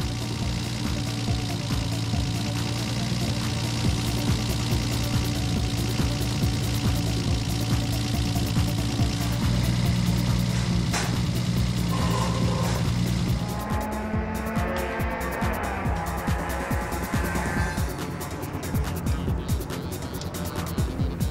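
Nissan Skyline GT-Rs, R32 and R34 models, lapping Sendai Highland Circuit at a club track day: loud, sustained engine roar with shifting pitch as cars pass close by, revving and changing gear continuously, no talk.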